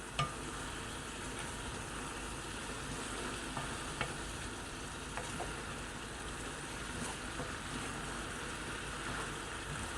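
Braised lotus root in a sweetened soy-style sauce simmers and sizzles over high heat in a pan, a steady bubbling hiss with occasional soft stirring clicks, close and continuous with no voices.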